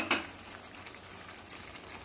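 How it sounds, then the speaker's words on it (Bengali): Fried catla fish pieces going into masala in a hot pan for doi katla, giving a sharp sizzling burst at the start that settles into steady frying crackle with light stirring, close and alone. "এবার আমি দেখো ভেজে রাখা মাছগুলো দিয়ে দেবো।"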